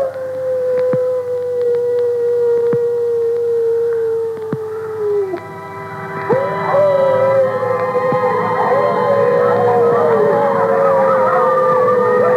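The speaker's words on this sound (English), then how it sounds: "They're wolves." Wolves howl in an old radio drama, with a long, loud, sustained wavering howl gliding slowly downward, then several overlapping howls rising together, with occasional sharp clicks and no talk.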